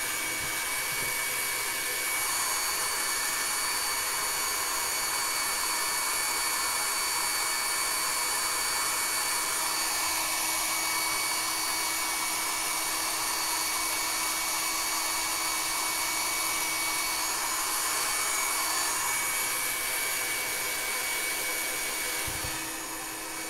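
A hair dryer runs steadily at close range, drying a handmade photo holder: a loud, unbroken whooshing hum with a faint whine that holds level for over twenty seconds, no talking.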